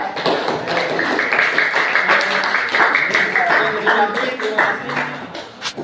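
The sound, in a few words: applause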